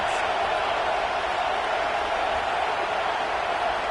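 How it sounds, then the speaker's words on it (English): Stadium crowd roaring at a football game, a steady, loud wall of massed cheering and noise filling the venue without pause. "Listen to this crowd just shaking the girders of this place"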